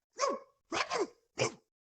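A person imitates a dog with three sharp, separate bark-like yelps, close and fairly loud, each short and spaced about half a second apart with silence between.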